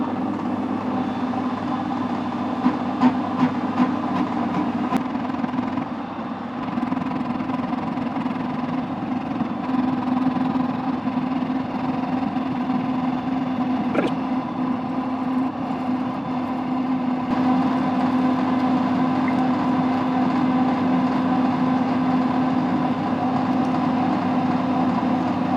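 A metal lathe turns steadily for offset hole drilling during a mechanical weld test, giving a continuous even mechanical hum with a steady tonal whine throughout, moderately loud and with no talk.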